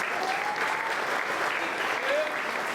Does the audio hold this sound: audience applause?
yes